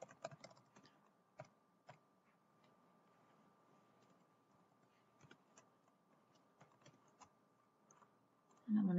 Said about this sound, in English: So here I'm just going to type in my credit card information